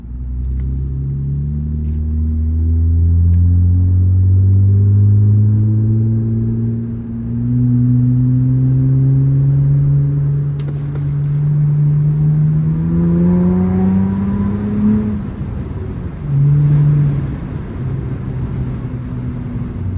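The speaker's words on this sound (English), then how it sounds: "With the valve open, and you can clearly hear that exhaust note in the cabin." Acura TL with a custom exhaust cutout valve open, heard from inside the cabin while driving: a loud, steady low drone that climbs in pitch under acceleration, eases off, then pulls again near the end.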